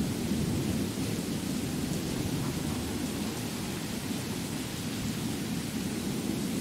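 A thunderstorm in the video game Skyrim Special Edition gives a constant rushing wash of rain with a low, rolling rumble underneath, steady and moderately quiet, with no speech.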